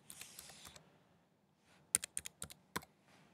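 Computer keyboard typed on to enter a login username, a short burst of soft keystrokes, then a pause and a quick series of sharper, close clicks.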